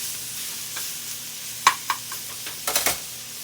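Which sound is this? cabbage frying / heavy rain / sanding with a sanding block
cabbage frying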